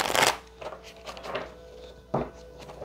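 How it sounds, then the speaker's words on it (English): Tarot cards are shuffled in a few crisp riffling bursts, the loudest at the start and another near the end, close and clear with soft handling between. "let's get a couple of more shuffles in before we get started"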